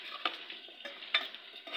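Green chillies frying in a pan, a steady crackling sizzle with a few sharper pops and stirring scrapes, close and moderately loud, with no voices.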